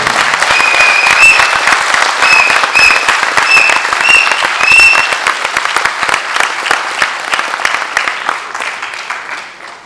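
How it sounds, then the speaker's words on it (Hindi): Loud, close applause from an audience at a comedy drama festival, greeting the introduction of the lead actor, with thick continuous clapping, a few whistles near the start, and a gradual thinning toward the end. "एक बार जोरदार तालियां होनी चाहिए।"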